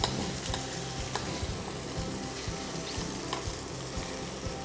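Asparagus sizzles in a pan with bacon and nuts, a dense steady frying crackle punctuated by soft stirring and turning knocks, close and continuous with no talking.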